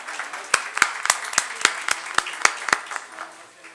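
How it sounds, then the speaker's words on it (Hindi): An audience claps in slow, loud unison beats, about nine sharp synchronized claps at an even rhythm, then a brief tail, welcoming Dr. Upendra Nath at a Lata Mangeshkar 96th birthday celebration. "जोरदार तालियों से स्वागत कीजिए डॉक्टर उपेंद्र नाथ का।"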